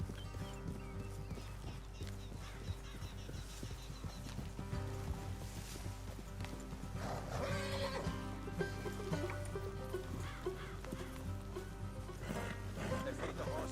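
Horses in the Red Dead Redemption 2 video game neigh and clop along amid a dense, steady game soundscape, with the horse sounds mixed under ongoing activity throughout.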